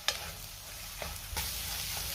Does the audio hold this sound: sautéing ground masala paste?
yes